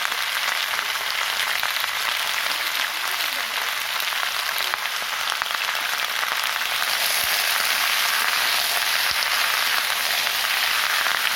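Spices with turmeric fry in a pan with a loud, steady, continuous sizzle that hardly varies throughout, heard close and alone.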